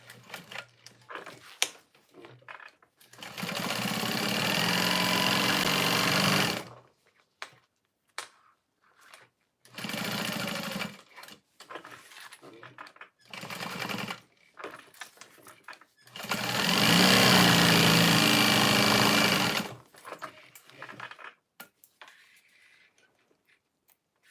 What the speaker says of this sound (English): we're just going to top stitch it all around the box